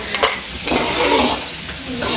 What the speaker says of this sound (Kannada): ಒಂದಿಷ್ಟು ಫ್ರೈ ಮಾಡಿ ತೊಗೊಂಬಿಟ್ರೆ ಆಯ್ತು ನೋಡ್ರಿ